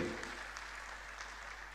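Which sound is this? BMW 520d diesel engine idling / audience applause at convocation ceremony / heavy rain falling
audience applause at convocation ceremony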